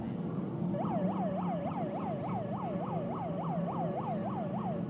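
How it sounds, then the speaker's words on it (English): An emergency siren wailing at Pinjar Park Speedway, a rapid rising-and-falling yelp repeating steadily over a low engine drone, at medium distance and fairly prominent. "The sirens keep on a-blowing"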